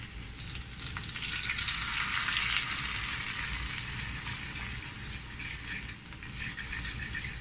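Beaten eggs stirred with a fork in a hot pan for scrambled egg with tomato sauce give a steady, close sizzle that hisses on for several seconds, with faint scraping underneath.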